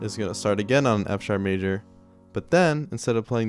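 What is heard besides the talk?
No distinct noise like a dog, phone or traffic.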